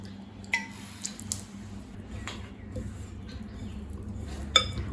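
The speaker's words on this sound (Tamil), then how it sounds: "இப்போ இது எல்லாத்தையும் நல்லா மிக்ஸ் பண்ணிக்கலாங்க." Cauliflower pieces are mixed by hand with masala in a bowl for cauliflower 65, soft squishing with occasional light clinks and taps over a steady low background hum.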